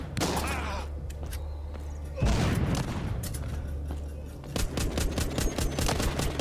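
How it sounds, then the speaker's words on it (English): Grenade blasts and rapid gunfire in the mobile shooter The Walking Zombie 2, with dense bursts of shots, a heavy boom partway through and continuing volleys, loud and close with a faint low hum underneath. "Here, have a grenade."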